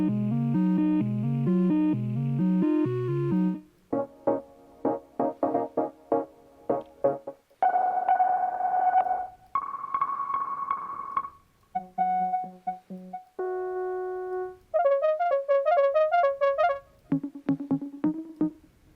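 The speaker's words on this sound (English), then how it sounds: "Listen to the bass." Synthesized bass and tonal synth patches from a VST plugin in FL Studio playing short melodic phrases, switching between several distinct timbres, some plucked and staccato, others sustained, with no voices.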